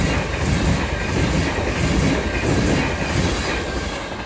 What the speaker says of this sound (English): passing through now will be a French West Coast service going from Glasgow Central to London Euston